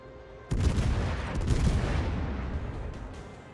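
Cruiser naval guns in World of Warships, the T10 Spanish cruiser Castilla, fire a salvo: a sudden loud blast with a rolling boom that lingers and decays over a few seconds, with no talk over it.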